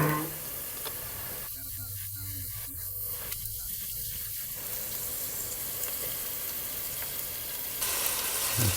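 Meat going into sizzling sofrito in a hot pan gives a continuous frying hiss, with a person talking over it partway through.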